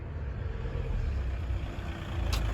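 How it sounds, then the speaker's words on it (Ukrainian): A 1.6-litre turbodiesel engine in a Volkswagen Golf 6 idling nearby, a low, even rumble that holds steady throughout with no revving. "двигун працює рівно"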